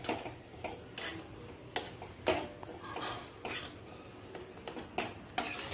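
A spoon scrapes and clinks against a pan while suji halwa with cardamom powder is stirred, giving irregular metallic taps and scrapes at close range, fairly quiet, with no talking.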